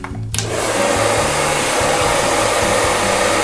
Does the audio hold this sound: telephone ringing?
no